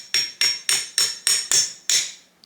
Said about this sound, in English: Let's tap it from the bottom with a hammer.